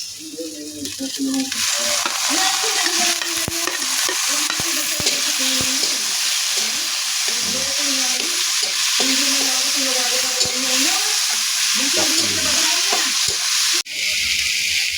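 Tomatoes and ginger stir-frying for squid adobo, a loud continuous sizzle with a steady hiss, while a voice talks over it for most of the stretch.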